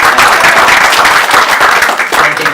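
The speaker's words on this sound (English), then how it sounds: "a big round of applause for her." Audience at an Australia India business summit in Melbourne breaking into loud, sustained applause, dense clapping from a crowd filling the room throughout.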